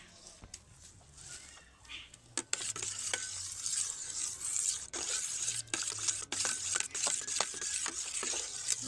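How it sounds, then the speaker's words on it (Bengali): The back of a spatula works through a homemade neem leaf and turmeric soap mixture in a pan, making uneven scraping and tapping strokes over a soft, faint sizzle. "ভালোভাবে আমি কিন্তু খুন্তিটা দিয়ে, খুন্তির পেছনটা দিয়ে নেড়ে দিচ্ছি এটাকে"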